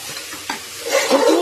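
Moong and masoor lentils being stirred and fried in an oil-coated pan for pressure cooker khichdi, a soft scrape followed by a rising hiss of sizzling close by.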